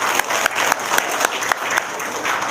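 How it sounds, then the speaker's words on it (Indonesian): A live audience applauds during an Indonesian talk about old-fashioned parental wisdom, a steady close patter of hand claps with a few sharper individual claps standing out over the dense crowd sound. "Tepuk tangan dong."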